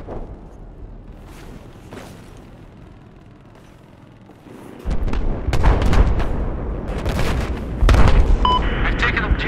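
Battlefield 4 combat with missile explosions and gunfire: a quieter stretch of distant booms, then a loud, dense barrage of blasts and shots from about five seconds onward, with a few short electronic beeps near the end.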